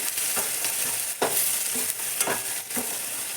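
Rice masala with garam masala, turmeric and salt frying in a pan, a continuous close hiss of sizzling oil punctuated by several soft scrapes of stirring at irregular intervals; no one speaks.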